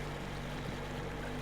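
A boat engine runs in the Metro Exodus video game, a steady loud broadband rumble with a low drone and a rushing water-like wash throughout, with no pauses and no voices.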